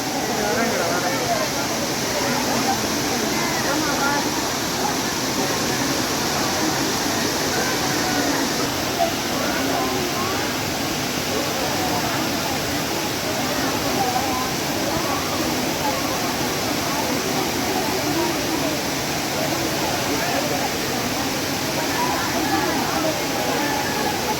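The Thiruneer waterfall in Tamil Nadu, India, roars steadily and loudly, a dense continuous rush of falling water filling the whole scene.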